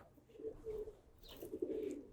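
Giribaz racing pigeons coo in a low, soft throbbing run that pauses and then resumes, fairly close and with no other sounds over it.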